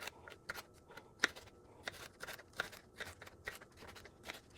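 Bell peppers being sliced for dehydrator trays, a run of crisp, close knife cuts and light crunches at an uneven rhythm, fairly quiet with no talking.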